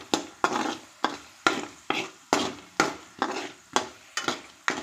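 Peanuts and coriander seeds roasting dry in a pan, stirred in a steady rhythm of about ten scraping, rattling strokes, each a short rustling burst that fades before the next, close and alone without talk.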